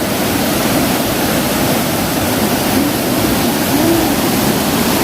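A mountain valley stream rushes past a campsite at Hongcheon Yongoreum in late summer, a steady, loud wash of flowing water that holds constant throughout, with no voices.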